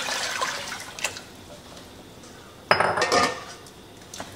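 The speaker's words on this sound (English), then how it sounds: "I'm gonna need to put a little bit more water to cover this jar." Water pours into a home canner to cover glass jars, with pots and metal clinking in a sharp burst of clatter and splashing, fainter bumps before it, no talking.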